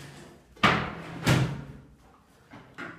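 A desk drawer in a bedroom is pulled open, with two sharp wooden knocks and thuds close by, followed by fainter small bumps.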